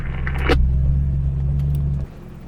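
An off-road vehicle climbs over a rock slab on a Colorado mountain pass trail toward Engineers Pass. A steady, loud, low engine rumble with a brief rattle is heard up close, cutting off abruptly near the end.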